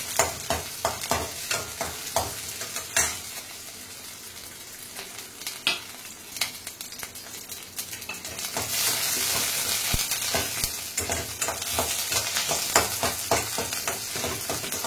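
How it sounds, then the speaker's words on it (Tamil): Shallots, garlic and green chillies sauté in a pan for a chutney, a continuous close sizzle with scraping stirs and clicks of a utensil, growing louder and denser partway through, with no talking. "2 பச்சை மிளகாயும் போட்டு அதை வதக்கிடணும்."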